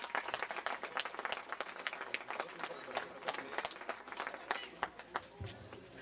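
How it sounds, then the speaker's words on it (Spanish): A crowd breaks into warm applause at a street paving inauguration in Yacxap, Soloma, with sharp, uneven claps close by and a few louder hits standing out, and voices murmur underneath. "Esos calurosos aplausos,"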